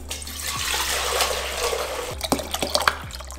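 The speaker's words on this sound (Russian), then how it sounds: "берем кастрюлю и вливаем в нее полбанки вишневого компота" Cherry compote pours from a jar into a saucepan as a steady, close liquid stream, followed by a few sharp drips and clinks at the end.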